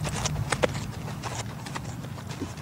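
Hooves of a horse under a rider clop in an uneven rhythm on firm ground, several close, distinct footfalls over a short stretch.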